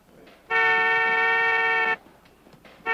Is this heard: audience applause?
no